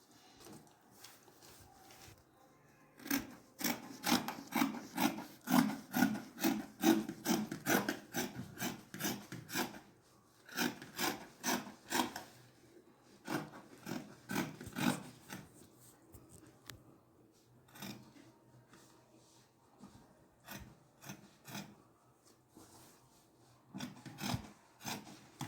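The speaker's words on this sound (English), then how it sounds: "Let me take my scissors." Scissors cutting fabric for a simple gown, heard up close as long runs of quick, rhythmic snipping and rasping blade strokes, separated by brief pauses.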